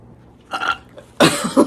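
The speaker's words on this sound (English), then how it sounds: "I'm gonna try to talk while I burp." Loud burping contest, two close, raspy belches, the second harder and throatier with a brief follow-up rumble, over a quiet indoor background.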